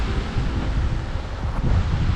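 Gusting wind buffets an outdoor microphone in a village street, a low constant rumbling roar with slight surges, loud and close, with no one speaking.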